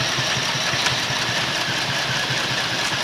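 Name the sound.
Chinese sewing machine sewing zipper into Davis tent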